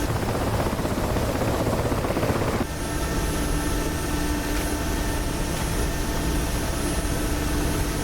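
Mil Mi-8 helicopter in flight, a loud steady rotor and turbine roar with a constant whine, continuous and close throughout, with no talking.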